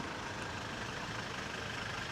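Steady broadband road noise from passing cars, a continuous rushing hum with a low engine rumble, moderately distant and without talk.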